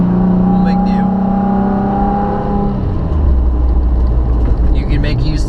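A Toyota FJ Cruiser engine drones steadily while climbing uphill through canyons, a sustained hum with a shifting pitch partway through, heard from inside the vehicle.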